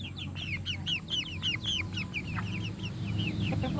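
Basilan chickens crossbred with native stock cluck in a flock nearby, rapid overlapping calls and chirps over a low farmyard background hum, busiest early then thinning out.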